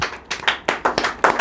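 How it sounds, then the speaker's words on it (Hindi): An audience claps hands in a classroom general-knowledge quiz session, about six sharp, fairly close claps in an uneven quick rhythm over a little more than a second, with no talking. "ताली बजा दीजिए।"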